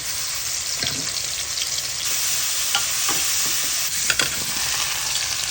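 Garlic paste and panch phoron frying in hot oil, a continuous close sizzle with a few scraping stir strokes, no voices.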